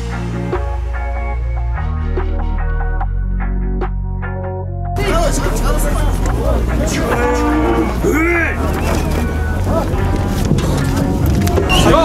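Cattle moo loudly at an outdoor livestock market in Zharkent, long drawn-out bellows first heard alone, then mixed with a busy crowd of talking traders and market bustle.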